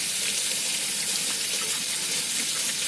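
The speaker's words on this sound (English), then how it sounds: "First you gotta start by washing your hands." Tap water runs steadily from a faucet into a sink during handwashing, a close, even hiss with no pauses.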